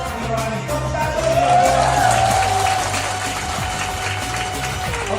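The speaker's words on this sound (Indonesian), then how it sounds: "Tepuk tangan dulu." An audience at a motivation seminar applauds, dense clapping that swells in the first half and then settles into a steady, slightly thinner patter, with a faint tone running underneath.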